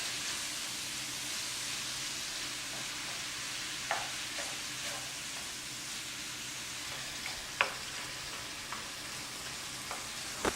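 Ground beef (hamburg) frying in a pan while a utensil breaks it into pieces, a continuous soft sizzle marked by a few sharp scraping and tapping stirs, near and with no talk.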